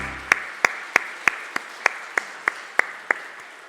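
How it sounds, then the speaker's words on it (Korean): A church congregation claps in unison, about eleven sharp, evenly spaced claps in a steady beat, crisp and fairly close with no voices over them. "우리 박수해 주시죠."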